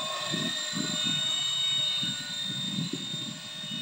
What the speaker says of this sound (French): on est quand même sur un hélico qui est relativement stable